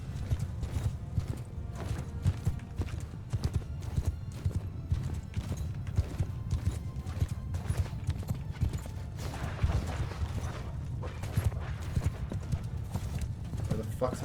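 A dense rumble of many hooves drums continuously as a hundred horse archers charge in Mount & Blade Bannerlord, with occasional whinnies, a loud massed cavalry roar throughout.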